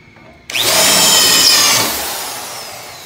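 A power drill with a waxed bit enlarges a hole in aluminum during boat building, kicking in abruptly with a loud, close, high whine for over a second before winding down.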